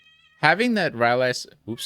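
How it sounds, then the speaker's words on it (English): A house cat meows loudly and close in a long drawn-out call, then breaks off, while someone talks over game commentary. "that's my cat in the background"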